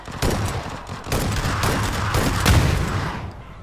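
Bursts of rapid gunfire in PUBG crackle and boom in quick succession, loud and dense, with no voices.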